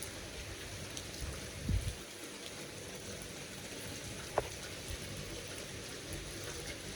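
Steady light rain falling outdoors, a soft continuous hiss of drops at a distance with an occasional faint nearby tap, quiet and with no voices.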